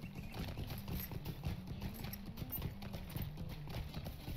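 Horse hooves clip-clop in a steady, continuous rhythm while riding in the Lord of the Rings Online video game, moderately quiet with no talking.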